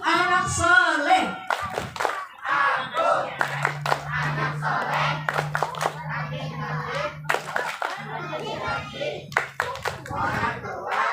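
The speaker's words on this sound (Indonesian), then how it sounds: "Tepuk anak soleh." A group of children claps a rhythmic cheer at a Muharram religious gathering, sharp clustered claps in bursts alongside chanted voices, with a low steady hum underneath.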